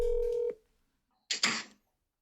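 A telephone dial tone, a steady held tone that cuts off after half a second, followed by a burst of brighter noisy tones, then a faint click at the end; no one speaks.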